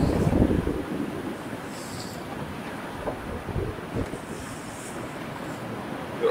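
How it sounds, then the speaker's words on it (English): Steady wind rush and water wash aboard a Hallberg-Rassy 69 yacht sailing on a beam reach in 15 knots of northwesterly wind under full main and headsail, a continuous broadband roar with no talk. "We've got 15 knots of wind, northwesterly wind as well."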